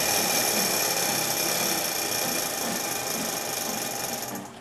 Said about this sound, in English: That's supposed to happen when the safe opens.